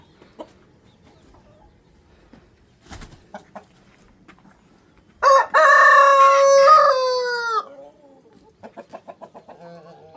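Quiet rustling and scattered clucks, then one loud rooster crow close by, followed by a rapid series of hen clucks.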